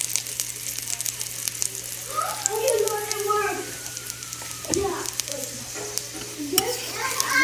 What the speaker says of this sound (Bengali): দুটো রুটি সেকা হয়ে গেছে, এবার এর মধ্যে ঘি দিয়ে দিচ্ছি।